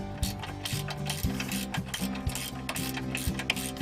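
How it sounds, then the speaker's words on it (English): A center bolt is tightened to fix an in-vehicle computer mount assembly to its stand, heard as rapid, close ratcheting clicks in a steady mechanical rhythm throughout. "Tighten the center bolt of the assembly to the mounting stand to secure it in place."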